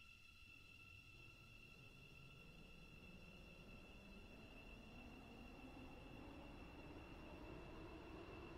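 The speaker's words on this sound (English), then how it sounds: "This train is formed of the 6 coaches." A six-coach passenger train in a Roblox railway game runs steadily with a continuous low rumble and rolling wheel noise, faint tonal hums and a high whine over it and no talking.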